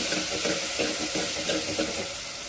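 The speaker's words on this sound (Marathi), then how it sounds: "टमाट्याला पण छान असं परतून घ्यायचं" Chopped tomatoes sauté in hot oil for the tempering of a spicy moong dal varan, a dense, even sizzle with soft stirring textures throughout the short stretch. No voices are present.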